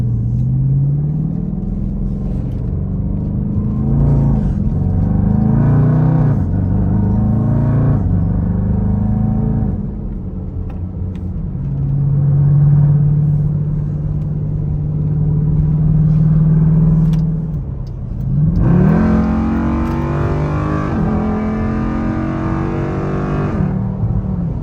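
A widebody Dodge SRT Durango with about 500 crank horsepower accelerating onto a freeway from inside, deep engine rumble climbing through gears with pitch rises and shift drops, loud and continuous.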